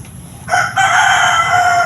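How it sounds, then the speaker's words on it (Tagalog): A rooster crows loudly and close, one long strained call with a brief break partway through, and no talking around it. "Yun, manok na naman."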